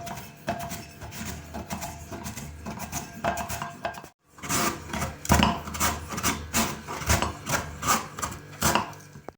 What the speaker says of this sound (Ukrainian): Одну середню моркву натираємо соломкою.